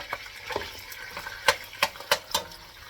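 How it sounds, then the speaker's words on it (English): A curdled mixture starts to boil in a pot on the stove, with faint bubbling and a few sharp pops and ticks spaced irregularly over a quiet background. "It's starting to boil."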